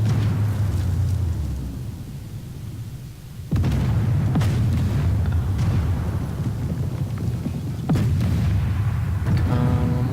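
An Abbot self-propelled gun fires in the tank game Armored Warfare, two heavy, deep booms landing about four seconds apart over a constant low rumble of engine and battlefield noise.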